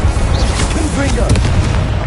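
Confringo spell explosion in Hogwarts Legacy, a heavy booming blast with rolling low-end rumble and crackling debris, loud and close, with a shouted incantation on top.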